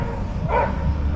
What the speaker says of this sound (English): See, it's dog day. There's so many dogs on the beach today.